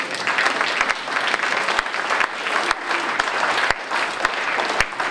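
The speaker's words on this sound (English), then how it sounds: "give yourselves a round of applause" A breakfast audience at a political candidates' event gives a round of dense, steady clapping that carries on throughout, a room full of hands with a few louder individual claps standing out.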